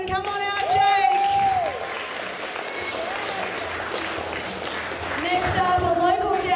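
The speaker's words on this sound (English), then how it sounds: "Keep that applause going" Applause from a crowd at a strongman show, steady clapping throughout with an MC's voice speaking over it.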